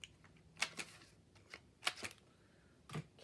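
A handheld corner rounder punch clips the corners of a paper journaling card: three sharp crisp clicks spaced apart, each a quick double snap, close and fairly quiet with no talk.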